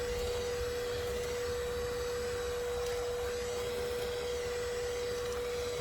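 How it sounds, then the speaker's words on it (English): Shop vacuum running on a wasp nest, a constant loud whine and roar with a steady tonal hum, occasional faint clicks of debris, no voices. "when I use my shop vac, it'll just tear the nest all apart"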